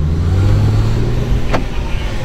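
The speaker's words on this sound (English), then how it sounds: "Definitely runs very nice with the six-cylinder engine." A 2006 Audi A4 3.2 Quattro B7 with its six-cylinder engine runs with a steady, smooth low hum, loud and close, with a brief whooshing swell partway through.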